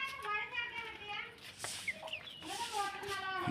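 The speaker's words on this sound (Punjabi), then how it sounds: "ਆ ਖੜਾ ਕੁੱਕੜ" A rooster clucks in short bursts nearby while children chatter and people talk around it.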